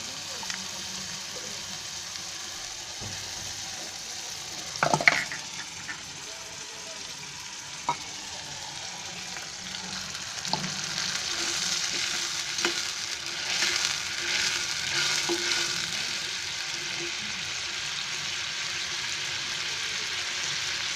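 Ground red chili paste sizzles and fries steadily in a hot pan while cabbage Manchurian is made, with a few sharp stirring clatters and a brighter sizzle building toward the end; no one talks.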